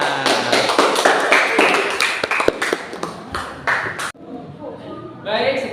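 Junior high school students in a classroom clap together for about four seconds in a dense, uneven burst of sharp claps, which then stops and leaves quieter room sound with voices.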